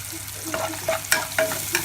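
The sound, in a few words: stirring onion, garlic and capsicum frying in a pan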